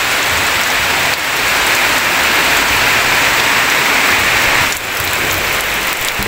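Heavy rain pours steadily onto a surface, a loud, dense wash of drops with no break, rising and falling only slightly across the whole stretch.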